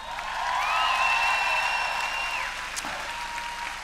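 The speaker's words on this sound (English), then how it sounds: "Give her another round of applause." Applause from an audience after a trainer's session on stage, a steady wash of clapping with a high whistle-like tone sweeping over it, moderately loud and fading slightly toward the end.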